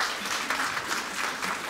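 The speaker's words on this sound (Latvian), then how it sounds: "Paldies, aplausi." Audience applause in a conference hall after a precision oncology talk at a medical forum, steady dense clapping that continues through the whole moment without pause.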